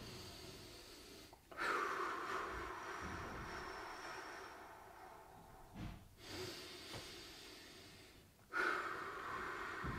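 Slow deep breaths during a seated gentle stretching exercise, with a few long, close, airy inhales and exhales separated by brief pauses, soft and quiet, with no talk.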